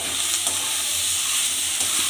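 Bean paste with coriander leaves sizzles and hisses steadily in a hot pan, with faint scraping from a spatula stirring now and then, loud and close with no speech.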